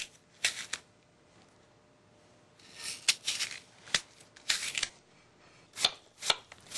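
Granny Smith apple halves being cored with a knife in a kitchen, a series of short crisp cutting and scraping strokes in uneven clusters, close and fairly quiet with pauses between.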